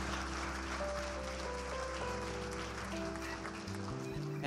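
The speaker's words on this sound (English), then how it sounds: "let's just give a round of applause" A church congregation applauds veterans during a Sunday worship service. The clapping is sustained and broad, with a soft tonal hum running underneath.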